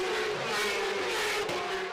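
Racing motorcycles sweep uphill at the Macau Grand Prix street circuit, a dense, loud engine roar held steady for two seconds with a brief swell near the end, no voices over it.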